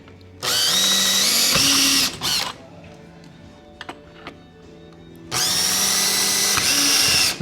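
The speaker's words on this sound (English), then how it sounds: "take the drill and we're gonna drill those holes in the frame" Power drill boring holes through a window frame into the wooden buck during a JELD-WEN impact window install in concrete block, in two loud sustained bursts separated by a quieter gap with small clicks and handling noises.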